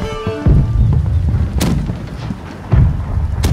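Ship cannons fire a broadside in the pirate naval combat game Blackwake, several loud booming shots spaced apart over a rumbling battle din, close and heavy, with no talk.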